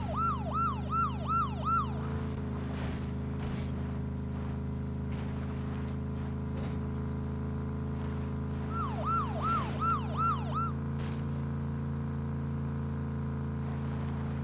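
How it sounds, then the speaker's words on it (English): Two short bursts of a police siren's rapid yelp in the video game PUBG, several seconds apart, ring out over a constant low engine drone. "Another cop car."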